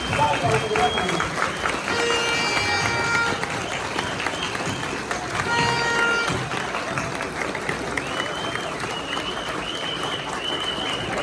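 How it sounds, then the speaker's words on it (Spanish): Loud, sustained applause fills a parliament chamber with dense clapping from a large crowd, while a voice speaks over it. "un homenaje con un fuerte aplauso"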